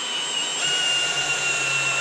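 Milwaukee M18 FUEL cordless drill driver running a screw, a steady high-pitched motor whine held at constant loudness for about two seconds, with no talk.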